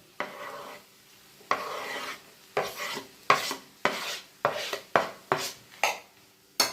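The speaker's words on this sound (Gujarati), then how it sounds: "હવે આને પણ આપણે આમ બરાબર આમ મિક્સ કરી લઈએ" Cauliflower curry stirred in a pan over low heat, a steady rhythm of about a dozen scraping strokes, close and fairly quiet.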